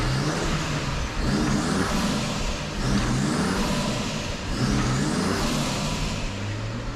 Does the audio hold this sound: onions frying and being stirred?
no